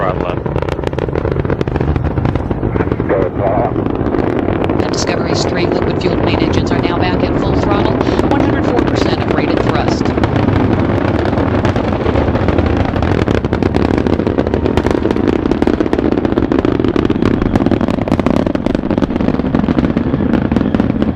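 Space Shuttle Discovery's engines give a dense, continuous roar and crackle during launch ascent from Complex 39B, loud throughout and overlaid with a narrator's voice.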